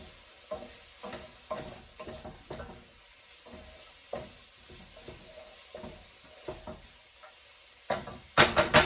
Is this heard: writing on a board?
no